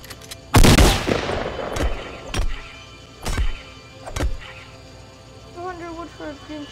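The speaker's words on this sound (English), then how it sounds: "Shotgun." A shotgun in a video game fires several loud, close blasts spaced a second or so apart, each ending in a short decay, with faint game tones near the end.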